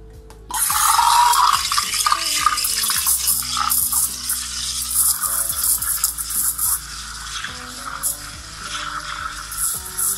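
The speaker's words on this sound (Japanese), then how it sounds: "スチームは早い目に泡立てて、あとは攪拌に専念するって感じですね" A steam wand froths milk for latte art, opening with a sharp burst of hiss and then settling into a steady, loud rolling swirl with faint gurgles that continues throughout.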